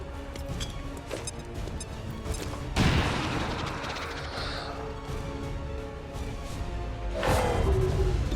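An XCOM 2 frag grenade goes off in a loud broadband burst, its rumbling blast and debris tail trailing away, with a second crashing impact following a few seconds later over a low ambient game bed.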